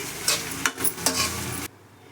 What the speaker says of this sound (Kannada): ರೈಸ್ ಹಾಕ್ಕೊಂಡು ಮಿಕ್ಸ್ ಮಾಡ್ಕೊಳ್ಳೋಣ